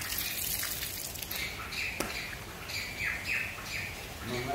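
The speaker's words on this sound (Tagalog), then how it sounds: "Mga ibon ay nag-aawitan" Birds chirp and sing in short bright calls scattered over a steady outdoor background, with a sharp click partway through.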